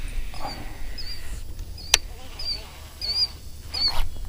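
A goose or similar waterfowl honking near water on a bass fishing outing, several short nasal calls spaced across a few seconds, moderately close over quiet outdoor background.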